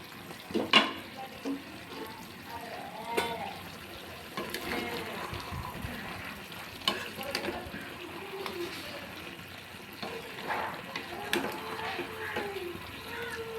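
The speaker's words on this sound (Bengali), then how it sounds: "চিকেনগুলোকে আমি ভাজার জন্য একটু সময় রেখে দেবো" Chicken pieces fry in a covered pan for hariyali chicken, giving a faint, steady sizzle with occasional soft crackles and stirring knocks, while someone talks quietly over it.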